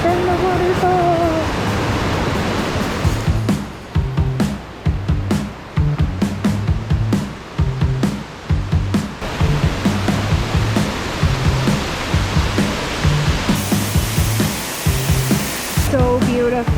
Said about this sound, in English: So this is the blue Morpho waterfall named after a type of butterfly.